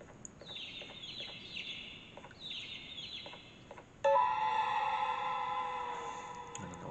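A bird in the video game Garten of Banban 3 gives several falling, squawking calls over a low hum, then a loud sustained tonal chime or electronic drone takes over for the last few seconds.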